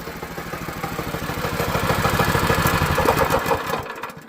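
A Predator 212 go-kart engine runs right after a pull start, a close, rapid chugging putter that swells slightly, then cuts off abruptly near the end.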